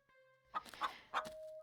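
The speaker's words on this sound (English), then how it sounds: "As you approach, a series of weak clucks call out from a nearby bush." A few soft, weak video game chicken clucks from a bush in the woods sound in short bursts over a quiet electronic hum.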